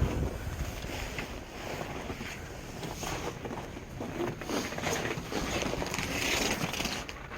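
Wind gusting across a snowy equestrian farm in a blizzard, a steady roaring rush with buffeting against the microphone, loud and continuous throughout with no voices.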